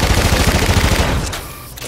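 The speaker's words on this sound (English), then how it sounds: "This gun is super fast! Oh, it's LMG" An LMG light machine gun in Call of Duty: Infinite Warfare firing a fast, loud, rattling automatic burst at close range, then cutting off abruptly and leaving a faint tail.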